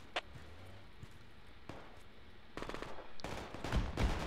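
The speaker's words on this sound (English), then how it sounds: "we got incoming fire" Incoming gunfire in the Project Reality military shooter, scattered distant single shots at first, then closer, louder bursts of automatic fire building toward the end.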